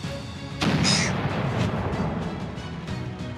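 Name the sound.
cannons firing at a boat in a VR game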